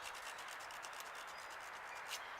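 Wooden hand-drill spindle end being rubbed back and forth against a surface to flatten it, a steady close-up scraping and sanding hiss with no talk.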